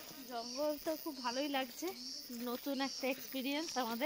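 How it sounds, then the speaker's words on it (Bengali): Crickets in a hill forest near Kalimpong drone constantly at a faint, high pitch beneath someone talking throughout. "একদম চারিদিকে ঝিঝি পোকা ডাকছে"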